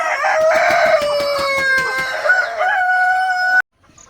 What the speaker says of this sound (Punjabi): ਆਹ ਦੇਸੀ ਮੁਰਗੇ ਨੇ ਭਰਾਵੋ